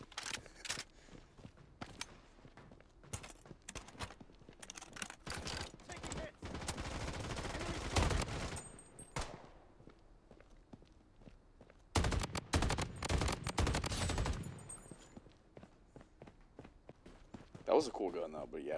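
Guns fire in the Zombie Battle Royale video game in rapid automatic bursts, with two long, dense volleys and scattered single shots. Softer clicks and movement sounds fall between them, and a voice talks at times.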